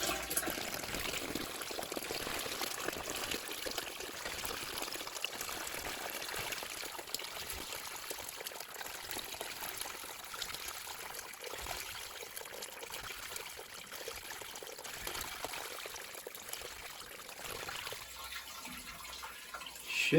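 Water trickles and pours steadily into a basement sewage ejector pump pit, a continuous soft rushing wash that runs unbroken for about twenty seconds at low level, with no voices.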